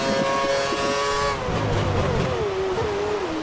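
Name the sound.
F1 car engine at full throttle in video game F1 2013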